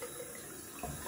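Very cold winter water runs steadily from a tap into a sink, a constant close, moderately loud hiss with a brief surge near the end and no talking.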